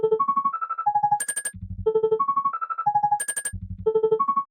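Synthesizer sequence with a strike effect that repeats each note several times in rapid succession, forming a bright, fast, looping pattern of pulsed tones with deep bass hits, loud and without speech.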